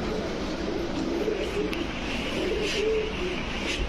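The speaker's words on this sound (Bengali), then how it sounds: "দেখেন কবুতর গুলা" Racer pigeons cooing in a loft, several soft repeated coos rolling over one another against a constant low background hum, with no talking.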